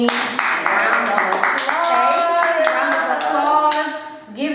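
A studio audience gives a round of applause for Rockie D at a beauty talk-show discussion, steady close clapping running the full length with some bright tonal sounds layered over it.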